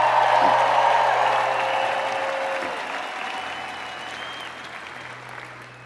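An audience applauds, a dense wash of clapping that slowly fades over several seconds, with a low steady hum underneath.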